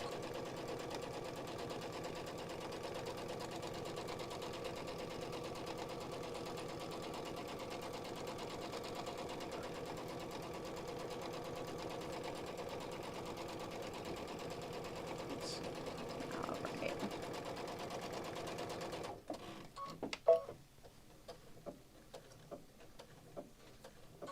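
A sewing machine stitches canvas fabric in a steady, continuous hum of rapid needle strokes for most of the clip, then stops, leaving faint handling clicks and rustles.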